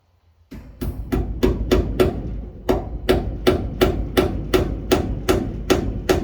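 A hammer strikes in a steady, repeated rhythm, about a dozen sharp, fairly close blows spaced evenly, with one short pause partway through.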